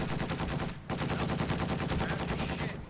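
A stolen MG42 firing in a World War II video game, a loud, rapid and continuous burst of machine-gun fire with one brief break near the start, close and dominant.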